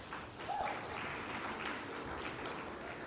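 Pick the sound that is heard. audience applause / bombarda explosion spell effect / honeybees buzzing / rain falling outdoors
audience applause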